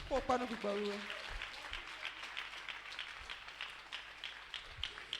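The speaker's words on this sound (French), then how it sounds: "Acclame pour le Saint-Esprit" A worship-service congregation applauds for the Holy Spirit with a steady wash of clapping that goes on for several seconds, after a short voice at the start.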